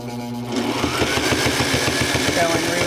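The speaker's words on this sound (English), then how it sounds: "actually go through eight layers of fabric and see how well it does" Sailrite Ultrafeed LS sewing machine stitching through eight layers of fabric, a fast steady mechanical chatter of needle strokes starting after a brief hum, loud and close.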